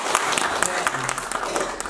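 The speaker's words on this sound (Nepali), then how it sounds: "यस उपलक्ष्यमा पनि उहाँलाई फेरि एकचोटि ताली बधाइदिउँ" An audience at a press meeting applauds, a dense stretch of many hands clapping that carries steadily through the brief moment at moderate distance.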